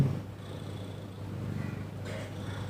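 A mother cat purrs in a low, continuous rumble close by, with a few faint snort-like breaths and light rustling near the end.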